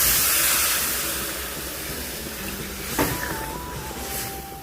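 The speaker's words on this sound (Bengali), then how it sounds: "আমি এখন জল ঢেলে নেব।" Water is poured into cooked spice masala in a hot pan for a lata fish curry with mustard seeds, curry leaves and tomato, setting off a loud hissing burst that fades and softens over a few seconds.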